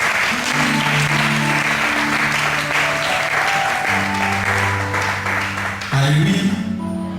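A church congregation bursts into sustained applause to acclaim the word of the Lord, dense even clapping throughout with sustained organ or keyboard tones underneath.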